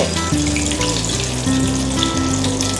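Ham and cheese spring rolls deep-frying in oil make a steady, bubbling sizzle under background music with a stepping melody.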